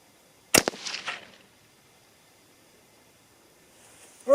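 A single sharp rifle shot with 80-grain ammunition at an outdoor range, a loud crack followed by a brief echoing tail, then quiet until a faint rustle at the end.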